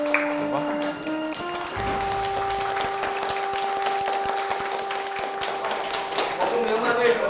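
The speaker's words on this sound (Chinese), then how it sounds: "我们大家鼓掌" An audience applauds a first-place award at a student competition, a dense patter of many hands clapping steadily, with a sustained musical tone underneath and a voice speaking at the start.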